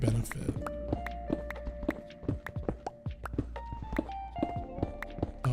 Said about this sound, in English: I heard zombie footsteps.